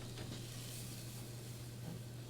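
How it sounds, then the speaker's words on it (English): Onions sweating in a pan give off a steady, soft sizzle and hiss that runs unbroken throughout, over a constant low hum, with no talking. "So we're gonna sweat these onions."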